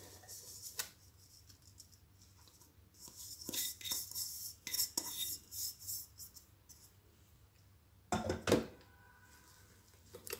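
Cake batter being mixed in a bowl with jaggery and ghee for a soft wheat-and-banana cake, faint scraping and scratching strokes in irregular bursts, with one louder clunk near the end.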